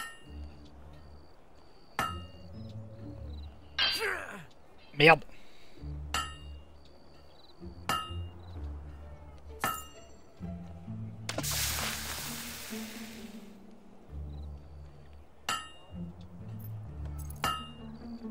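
Hammer striking metal while forging a blade in the video game Fable II: a dozen or so sharp, ringing clangs spaced a second or two apart, with a brief whooshing burst partway through and a short spoken exclamation.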